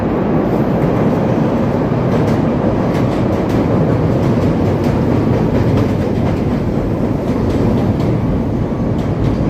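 An elevated Chicago Brown Line metro train rumbles in loudly on a wet day, with a constant roar and clattering of wheels on track throughout, close by.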